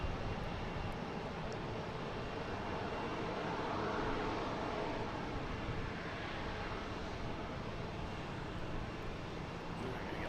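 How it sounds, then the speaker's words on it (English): Delta Boeing 767 arriving from Dublin at Boston Logan, a steady broadband engine roar that swells gently and holds throughout, heard alone and fairly distant. "We got Delta coming in from Dublin, 767, flight 155."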